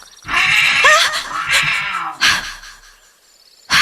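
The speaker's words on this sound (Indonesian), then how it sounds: "aku dikagetkan oleh seekor kucing hitam yang ada di dalam tenda" Black cat meowing inside a camping tent on Mount Manglayang, a loud drawn-out yowl followed by two more shorter cries, close to the listener with no talking.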